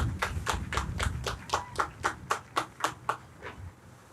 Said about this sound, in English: So I just wanted to take this opportunity to give Mabel and her team a huge round of applause